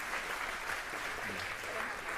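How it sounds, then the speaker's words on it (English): A live audience at the React Advanced London conference applauds its panelists, a steady, dense wash of clapping from many hands that holds evenly throughout and fills the room at moderate level. "Can we have a round of applause for our panelists?"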